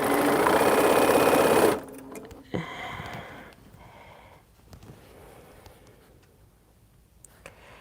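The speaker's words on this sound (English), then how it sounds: "I'm just sewing it together." A sewing machine runs loud and steady for nearly two seconds while stitching quilt blocks, then stops. Softer clicks, handling noises and brief fabric rustles follow in a quieter room.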